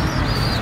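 Racing pigeons released from their loft, a steady flock murmur of cooing and soft calls close by with continuous low flutter, no speech.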